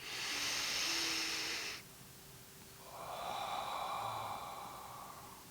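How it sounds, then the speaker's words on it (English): Slow, deep relaxation breathing close to the mic: a long forceful exhale, a pause, then a softer drawn-out breath. "Now, you can also relax yourself through deep breathing,"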